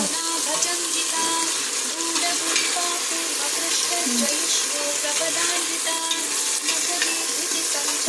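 Ginger, garlic and fennel paste frying in a pan for carrot and soya chunk biryani, a loud continuous sizzle with stirring scrapes throughout.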